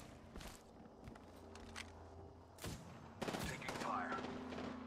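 Gunfire crackles in an Apex Legends match, scattered sharp shots and short bursts, some near and loud, others farther off, with footsteps and game effects between them.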